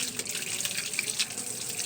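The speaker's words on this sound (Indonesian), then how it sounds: "bilas kedua tangan dengan air yang mengalir." Tap water running over hands being rinsed at a sink, a steady close splashing stream with no talking.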